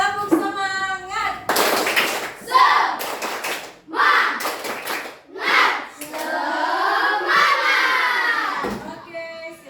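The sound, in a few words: children clapping a spirit clap in class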